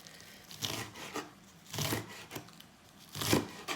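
A knife slices ingredients very thinly on a cutting board while making homemade ramen, giving soft scraping cuts in separate bursts about every second, close and moderately quiet, with no talking.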